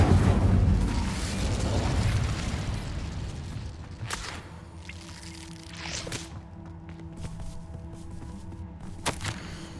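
A fire spell blast in the Hogwarts Legacy video game lands as a loud, close whooshing burst at the start, then fades into quieter ambience with a few scattered pops and crackles.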